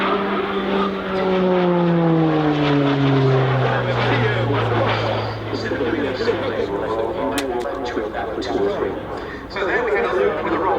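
A Slovenian Army Pilatus PC-9M propeller aircraft flies an aerobatic display, its engine note sweeping down in pitch as it passes, loud and continuous, with a commentator talking over it.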